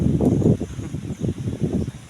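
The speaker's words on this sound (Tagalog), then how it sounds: "Kasi hangin sa bukid oh. May hangin oh, daghan ng hangin." Wind blowing across open cornfields, heard as a rough, gusty rumble buffeting the microphone in uneven surges, loudest at the start and pulsing throughout.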